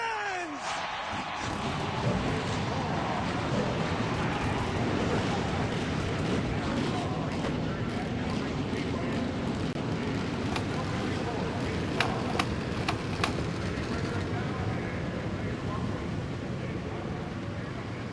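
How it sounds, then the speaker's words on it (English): Dense, roaring stock car engines fire up together for the Tyson Holly Farms 400, a continuous loud rumble of many cars mixed with crowd noise throughout. "Gentlemen, start your engines!"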